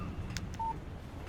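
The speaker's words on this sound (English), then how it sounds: "Text message from Barry" Short electronic beep of a phone text message alert in the Alan Wake video game, a single brief tone over a low background rumble.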